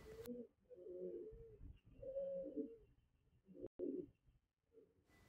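A male pigeon coos from inside a nest box in a pigeon loft, a series of soft, low, rolling calls repeated several times in close succession with brief pauses, near and fairly quiet.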